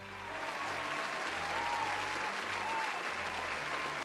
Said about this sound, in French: La vie, franchement, je pense qu'on peut s'applaudir.